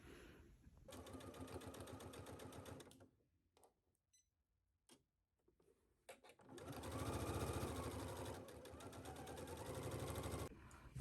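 A sewing machine stitches darts on a garment pattern piece in two fast, whirring bursts of needle clatter, close and loud, separated by a quiet pause with small handling clicks.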